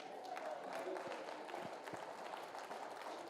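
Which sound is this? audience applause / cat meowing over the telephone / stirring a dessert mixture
audience applause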